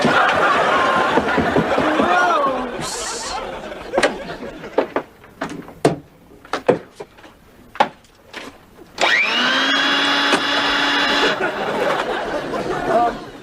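A household vacuum cleaner in a sitcom scene whines briefly at the start, then drops out for sharp knocks and audience laughter before roaring back loud and steady for a few seconds.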